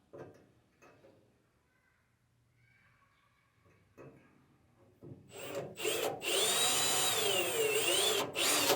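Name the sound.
drill drilling small holes through a plate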